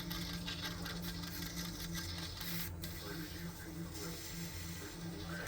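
A Leguna 12/16 wood lathe runs at steady speed, giving a loud, even mechanical whir and hum with a faint rhythmic rattle throughout.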